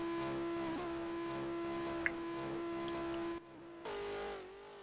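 LMP2 prototype race cars in the iRacing sim game at Daytona, a steady synthetic engine drone with a sustained tone that dips and shifts as cars pass, fairly quiet, with no talk.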